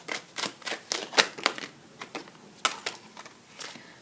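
Tarot cards being shuffled by hand, a run of quick riffling flutters and soft slaps in an irregular rhythm, close and fairly loud, with no talk.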